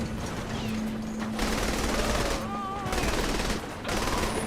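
Rapid gunfire in a video game rattles in dense automatic bursts over game sound effects and voices.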